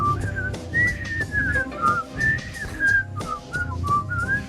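Several people whistling the Andy Griffith Show theme together, a bright melodic tune in short sliding phrases over a low rhythmic background, close and clear with no talking.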